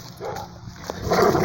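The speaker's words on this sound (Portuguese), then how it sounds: "Então o cachorro tá aqui no comando de ataque." A Boxer dog gives short, rough barks and yips during attack training, close and loud over a noisy outdoor background.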